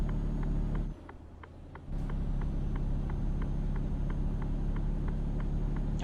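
Mercedes truck in Euro Truck Simulator 2 driving slowly with hazard lights on, a steady low diesel engine rumble over a regular ticking indicator, dropping briefly near the start before resuming loud and constant.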